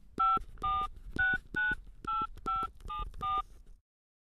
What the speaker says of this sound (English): I think I'll phone Anna.